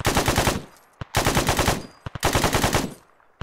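Sustained bursts of automatic gunfire in Arma 3, three long rapid-fire volleys separated by short pauses and a few single shots, loud and close with no talking.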